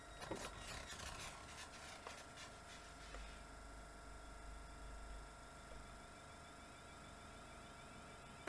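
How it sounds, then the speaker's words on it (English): Train air compressor on a train in Train Simulator runs quietly, a faint, steady mechanical buzz and whine with a low hum underneath and no talk. "That compressor is still going"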